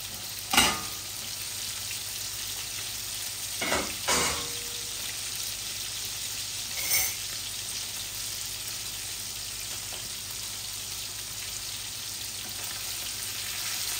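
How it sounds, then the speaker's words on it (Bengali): Pieces of rohu fish fry in oil in a pan with a quiet, steady sizzle, broken by a few brief clatters from stirring or turning. "আমার মাছটা এক পিঠ হয়ে গেছে ভাজা।"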